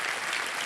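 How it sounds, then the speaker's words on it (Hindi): A television quiz-show studio audience applauds, a brief burst of dense, even clapping heard alone. "तालियां बज जाए इनके लिए"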